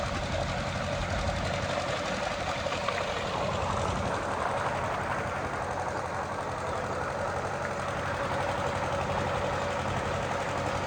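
A generator engine drones steadily and loudly for the whole stretch, close by, with a constant mechanical hum and rattle and no pauses.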